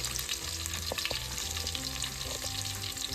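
Cumin seeds sizzle and crackle in hot oil with onions in a pan over a wood-fired village stove while mutton curry is cooked, giving a steady close frying hiss with scattered pops and stirring sounds.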